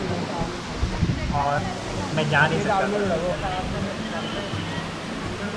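Steady broadband roar of the Muthyam Dhaara waterfall on a slippery trekking path, a constant wash of falling water with someone speaking over it.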